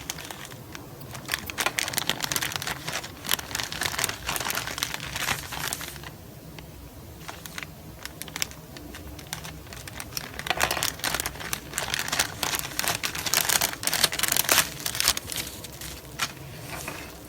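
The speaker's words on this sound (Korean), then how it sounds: "제가 제일 좋아하는 바로 그 녀석 구름칼을 가지고 와서 바로 뜯어볼게요." A mailed package being opened with a cutter knife, with continuous close crinkling and tearing of plastic wrapping and paper and small scraping sounds, no talk.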